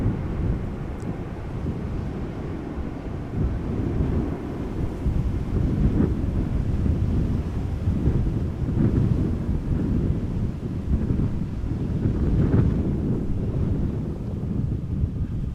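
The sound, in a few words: strong wind at the airport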